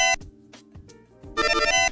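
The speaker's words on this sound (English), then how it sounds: "That is the sound of Galaga." Electronic sound effects from the Galaga arcade video game, with short bleeping tones that give way to a brighter, busier burst of warbling chip sounds.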